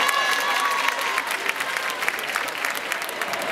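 Applause from the audience at the Miss Mali France 2014 pageant at Cirque Diana Moreno, a steady, dense wash of many hands clapping that holds at even loudness from start to finish, with a faint tone audible underneath early on.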